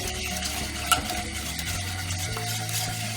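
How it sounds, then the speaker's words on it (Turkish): Magnolia pudding mixture with a heaped spoon of wheat starch being stirred in a pot, a steady close swishing and scraping with one sharp clink partway through, no voices. "bir tepeleme yemek kaşığı buğday nişastası ekliyorum. Ve karıştırmaya devam ediyorum."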